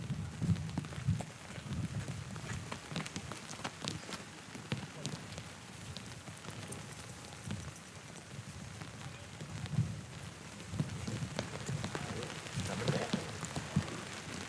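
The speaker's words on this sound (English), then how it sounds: "it's raining pretty good right now" Rain falls steadily on an outdoor surface during a youth baseball game, a continuous hiss and patter throughout, with a commentator's voice and crowd murmur over it.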